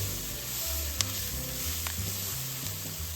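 Oil and flour sizzle steadily in a pan for a home-cooked dinner as they are stirred together, a close, continuous frying hiss with a few light utensil scrapes and no talk.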